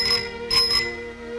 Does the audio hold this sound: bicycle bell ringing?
yes